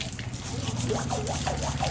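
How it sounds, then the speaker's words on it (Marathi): Water splashing and gushing during an outdoor Holi celebration, a steady wash of spray and splatter that runs throughout while voices call out close by. "भाऊ पाणी नको मारू पाणी नको मारू"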